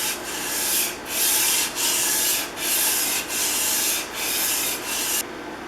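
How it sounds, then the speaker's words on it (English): Back of a Stanley No. 33 jointing plane iron lapped on 150-grit sandpaper, steady rhythmic rasping strokes about one per second with brief pauses between, close and loud. "Just got to finish the back side of the iron."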